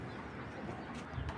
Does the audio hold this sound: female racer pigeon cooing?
yes